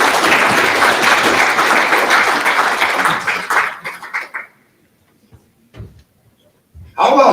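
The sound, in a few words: applause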